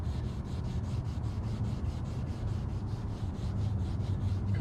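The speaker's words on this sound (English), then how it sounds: "Because we're scrubbing this real good, right? Scrub with the toothpaste." Toothpaste is scrubbed by hand over the headlight of a 2012 Kia Soul, giving a rapid, rhythmic back-and-forth rubbing close to the microphone that continues steadily without pause and with no talking.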